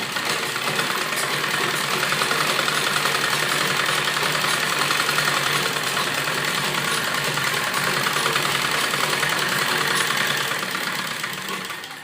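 A sewing machine runs continuously while stitching the lining of an embroidered suit, giving a steady, loud, motor-like whir with dense fine rattling that holds for the full length and tapers slightly at the end.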